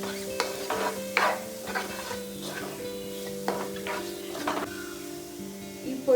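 A spice mix for Kerala-style prawn roast is stirred in a pan, giving repeated scraping and tapping strokes in an uneven rhythm over a soft background sizzle.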